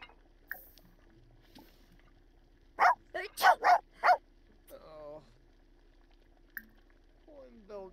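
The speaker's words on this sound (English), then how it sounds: "Why are you so yappy, dog?" A dog in The Sims 4 barks in a quick burst of four or five sharp yaps near the middle, followed by a short whine, with a few faint game clicks and no talk.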